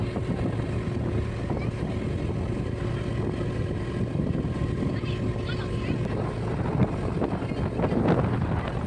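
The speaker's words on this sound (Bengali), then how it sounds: "প্রাকৃতিক কি সুন্দর একটা নৌকা মন্দির থেকে আসছে" A motorboat moving on the water near Kamakhya temple, a steady engine drone mixed with wind buffeting the microphone, with voices talking over it.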